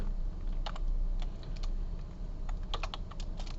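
Typing on a computer keyboard during a lecture on binary numbers. Key clicks come in irregular bursts and single taps over a low steady hum, fairly close, with no talk.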